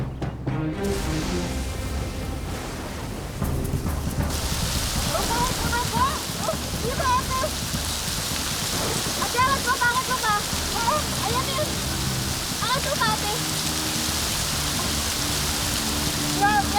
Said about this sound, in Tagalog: Mukhang babagsak na yung ulan.